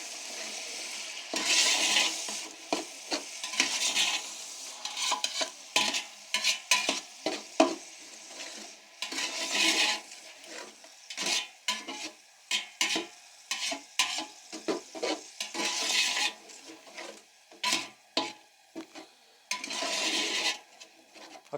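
Beef yakhni pulao mixture being stirred in a pot, with repeated scraping and clinking strokes of a spoon against the metal over a soft sizzle, close and steady throughout with no talking.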